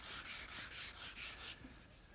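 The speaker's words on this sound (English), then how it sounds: "this 320 grit wet dry sandpaper is the perfect choice for sanding between coats" Rhythmic back-and-forth rubbing of 320-grit wet-dry sandpaper on a clear finish between coats, about seven quick strokes with a soft hissing scratch, close up, then it stops.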